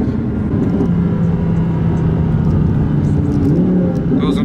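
A 1700 hp Audi R8 accelerates hard on a street, its engine a loud, steady roar that climbs and holds throughout, with people talking inside the car over the noise.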